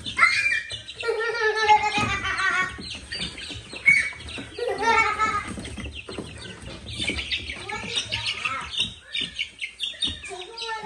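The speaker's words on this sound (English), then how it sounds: "This is a Leghorn chicken." Leghorn chicks and young chickens in a brooder peep and cluck continuously, a busy overlapping chorus of chirps close by with faint rustling underneath.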